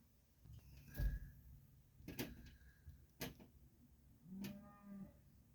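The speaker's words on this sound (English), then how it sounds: "Don't mind the mooing cow next door." A cow next door to a parked 1975 Dodge Executive motorhome moos several times, faint and distant, with low drawn-out calls over quiet outdoor background.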